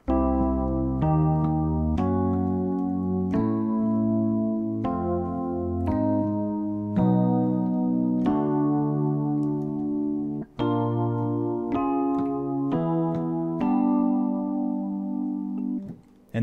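Major triads stepping through a root cycle of minor thirds and fourths, about a dozen chords sounded one after another on a keyboard, each struck firmly and held briefly, steady and loud with no speech.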